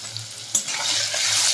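Potato pieces seasoned with salt and turmeric sizzle in a pan, a steady close fry with a sharp clink of a utensil partway through as they are stirred.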